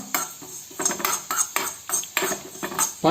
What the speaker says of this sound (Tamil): இதை கொஞ்சம் நல்லா வதக்கணும்